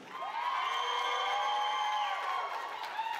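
A wedding crowd cheers and whoops for the newlyweds during bridal party introductions, a loud sustained roar of many voices with high shrieks layered on top, fading slightly at the end.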